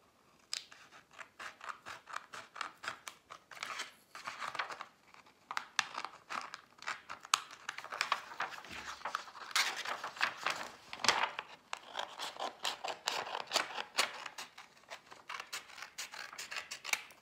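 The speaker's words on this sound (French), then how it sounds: "Donc je vais découper autour, tout simplement." Scissors snip around paper glued onto tracing paper, a long run of crisp, irregular close-up cuts with faint crinkling of the sheets between strokes and no speech.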